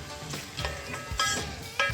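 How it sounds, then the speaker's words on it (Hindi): Sliced onions fry in a pan until golden brown, a close, steady sizzle broken by a few scraping stirs with a spoon, with no voices. "प्याज को हमने गोल्डन ब्राउन करना है, हमने इसको डार्क ब्राउन नहीं करना"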